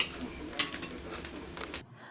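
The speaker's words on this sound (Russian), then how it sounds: "И все это ложкой мешаем, чтобы равномерно остудился." Spoon stirring jellied meat (kholodets) made from foal legs in a kitchen pot, a run of soft scraping and light clinking taps close up over a low background hum, ending abruptly.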